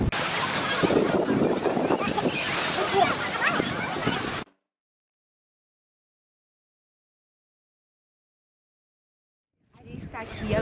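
Ocean surf below a clifftop viewpoint over the beaches of Búzios, Brazil, a steady wash of waves mixed with wind buffeting the microphone, cutting to silence midway and returning faintly at the end.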